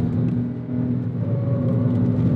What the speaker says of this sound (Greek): Βγάζει ένα επιθετικό ζωηρό γουργουριτό που προδίδει στροφάρισμα και πολλά διαδοχικά συνεχή κασιματάκια κάθε φορά που κλείνεις τον γκάζι